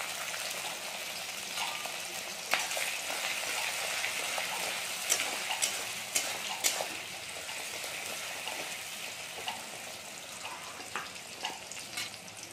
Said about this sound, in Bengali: এবার আমাদের এগুলোকে একটু ব্রাউন কালার করে ভেজে নিতে হবে।